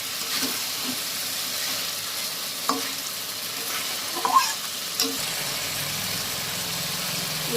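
Marinated mutton fries in spiced masala for mutton biryani, sizzling loudly and steadily up close, with occasional clinks and stirring knocks and a low rumble joining near the end.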